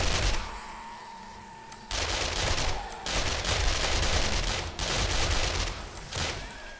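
Dense, loud automatic gunfire from the survival game 7 Days to Die, with sustained rattling volleys that pause briefly and then resume in heavy bursts, without any talking.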